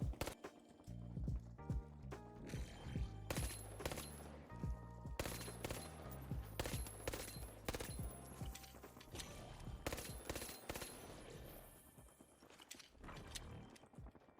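A three-round burst weapon fires repeatedly in The Finals, producing sharp clustered shots in quick groups among busy game sounds, loud and close throughout.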